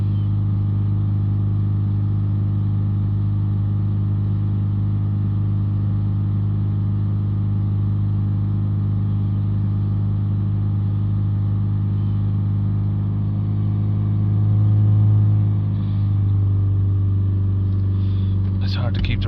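A Toyota Yaris 1.4 D4D diesel engine held at a steady 3000 RPM, a constant loud droning hum that swells slightly near the end as the revs waver.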